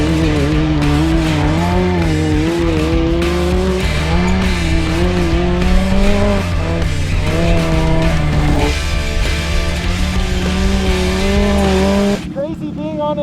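A turbocharged fake F1-style race car driving on a track, its engine droning loud and close with pitch rising and falling through gear shifts and throttle changes, then cutting out abruptly near the end.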